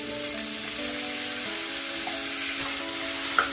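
Half a kilo of mushrooms hits hot ghee in a kadai for mushroom kuzhambu, a steady, close, loud sizzle with a faint clink near the end.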